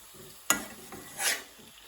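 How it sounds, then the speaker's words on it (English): Base gravy goes into a hot pan of chicken jalfrezi with garlic and chilli, giving a sharp hiss followed by steady sizzling and a second swell as it is stirred, with no talking. "Let's go and add in our base gravy."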